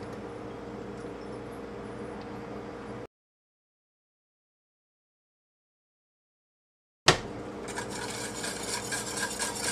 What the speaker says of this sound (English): So I'm just going to sit here and whisk this like crazy